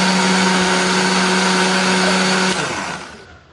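A blender grinds chili, garlic, shallot and candlenut into a paste with a loud, steady whir, then spins down and fades at the end.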